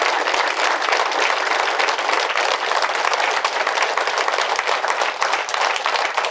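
A big crowd at a spiritual meeting claps for two masters, a thick, sustained roar of applause that holds loud and even from start to finish.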